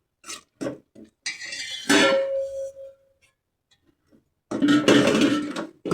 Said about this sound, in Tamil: தேங்காய் பூ போட்டு கொஞ்சம் நேரம் கிண்டிட்டு அதுக்கப்புறம் ரவையையும் அதோடு சேர்த்துக்கிறோம்